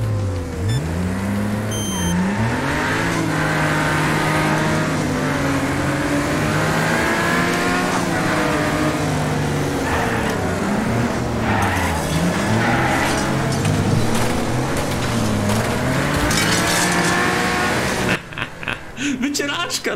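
Race car engine in a racing video game with a partly locked differential, revving hard with rising and falling gear changes and tyre squeal through corners, loud and continuous, with someone talking excitedly over it.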